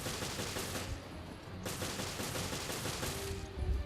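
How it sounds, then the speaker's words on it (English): Gunfire from the Pale Rider, an extra-long revolver in Resident Evil Revelations Raid Mode, with dense, continuous shooting and blasts for about four seconds, loud and up close with no talking. "Crazy long revolver called the Pale Rider."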